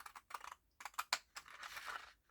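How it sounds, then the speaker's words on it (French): Pinking scissors cutting paper card, a series of close, crisp snipping crunches in irregular bursts with short pauses between. "Avec le ciseau cranteur"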